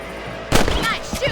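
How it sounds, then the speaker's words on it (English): A single loud gunshot cracks out in Red Dead Redemption, followed by a brief ringing tail and a voice. "You got one! Good shot!"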